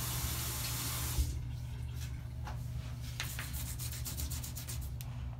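Toothbrush scrubbing mouldy silicone sealant with water: a steady near rubbing hiss over a low hum, with short brushy strokes repeating in an irregular rhythm and no talk.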